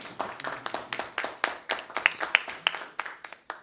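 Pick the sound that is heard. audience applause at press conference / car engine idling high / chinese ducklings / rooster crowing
audience applause at press conference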